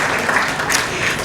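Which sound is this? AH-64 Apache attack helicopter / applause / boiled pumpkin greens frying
applause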